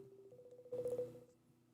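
Telephone keypad dialing tones as a call is placed back during a phone interview: a quick burst of several electronic beeps over a low steady hum, with no talking.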